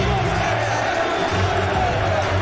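Boxing arena crowd at a Lennox Lewis versus Francois Botha fight in July 2000, a dense, steady roar of cheering voices filling the hall, loud and continuous with no pauses.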